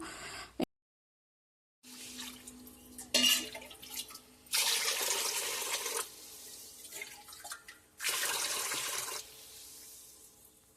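Tap water runs in several bursts with pauses between, splashing and sloshing as rice is washed in a vessel.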